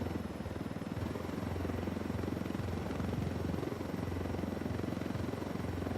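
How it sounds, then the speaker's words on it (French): An UNIDAD helicopter in the video game Ghost Recon Wildlands, a steady rhythmic rotor chop with a low engine drone, continuous and fairly close throughout, with no talking. "Il y a quand même un hélicoptère de l'UNIDAD qui traîne là à droite à gauche"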